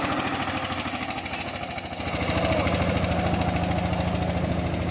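A John Deere tractor engine runs with a loud, steady diesel chug and rapid regular pulsing close by, rising slightly in intensity partway through.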